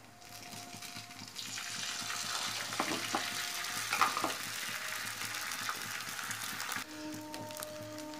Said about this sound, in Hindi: अब हम अंडा डालेंगे रोटी के ऊपर।